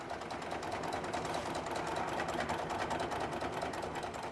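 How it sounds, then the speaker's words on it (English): A sewing machine stitches continuously, its fast rhythmic needle ticking steady and close throughout, with no voices. "with the sewing machine, I try to replicate the stitches from there"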